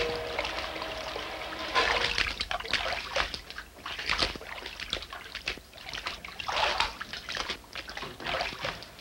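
Water trickles and splashes in irregular bursts. The sound is fairly soft and close, with quieter dripping gaps between the surges.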